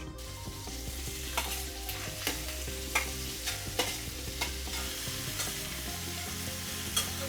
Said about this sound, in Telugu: అండ్ మన మెయిన్ ఇంగ్రీడియంట్ పన్నీర్ అనమాట. Let's fry.